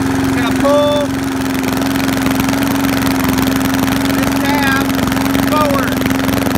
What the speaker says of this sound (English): it's idling too low